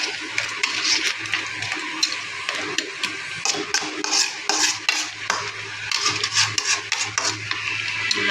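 River crab gravy in a pot being stirred, with repeated close scraping and rubbing strokes of a spoon against the metal in an irregular rhythm over a faint simmer, no voices.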